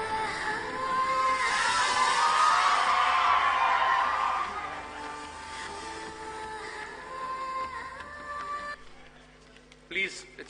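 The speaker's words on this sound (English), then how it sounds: "Please do not hoot and whistle, my friends." A large crowd in Delhi hoots, whistles and yells in a loud, sustained roar that gradually eases, with a voice speaking over a public address system at a speech gathering.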